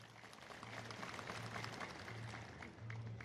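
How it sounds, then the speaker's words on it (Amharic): A crowd of churchgoers at an Ethiopian Orthodox sermon claps together in a sustained, even burst of applause, many hands at once with no talking on top. "እስቲ ያልቆረባችሁም ያብቃችሁ ለማለት እስቲ አጨብጭቡ።"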